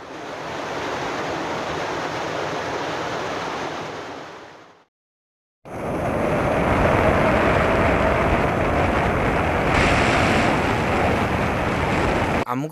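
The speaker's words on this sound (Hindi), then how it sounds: "ଏ ଉପରୁ ଜଳପ୍ରପାତଟି ଖସି ତଳକୁ।" Water pours down the Tenteinali waterfall in a loud, continuous, broad roaring rush, broken by a short silent cut midway before the roar resumes.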